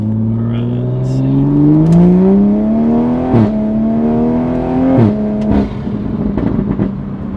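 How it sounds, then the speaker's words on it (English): Toyota Supra A90 accelerating from inside the cabin, its engine pitch climbing steadily then dropping sharply at two quick upshifts, the revs rising again each time, with a voice briefly speaking near the end. "Shifting does sound quick, like it sounds fast."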